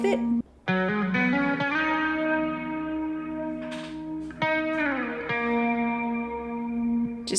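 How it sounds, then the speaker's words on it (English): Guitar chords and sustained notes soaked in Baby Audio Crystalline shimmer reverb, with chorus, delay and saturation, ringing continuously in a lush, washy haze with a few fresh strums. "just gives it that really nice shimmer"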